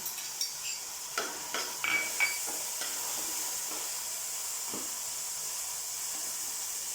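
Ginger, green chillies and vegetables fry in a pan for egg rice, with a soft, even sizzle and hiss under a cluster of spatula clacks and scrapes early on, then a calmer steady frying sound.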